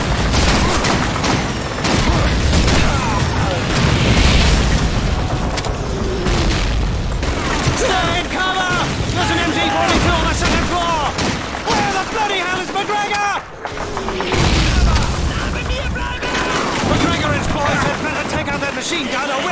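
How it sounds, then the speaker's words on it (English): Mortar explosions and gunfire in the Call of Duty 2 video game rumble and thud again and again in a dense, loud barrage, with battle chatter and shouted voices running under the din. "We have to take out those mortars."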